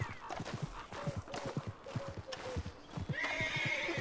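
A horse in Red Dead Redemption 2 Online clip-clops at a walk with steady, close hoofbeats, then gives a clear neigh near the end.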